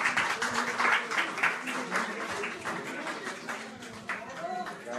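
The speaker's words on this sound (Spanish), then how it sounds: "El aplauso que se escuche," Audience applause at a sponsor recognition ceremony, steady crowd clapping throughout under someone talking over a microphone.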